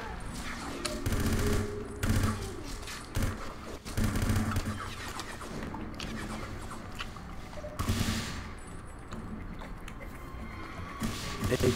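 AK-74 rifle fire in 007: Everything or Nothing, bursts of rapid automatic shots mixed with game effects and engine-like noise, moderately loud, with voices talking over it at times.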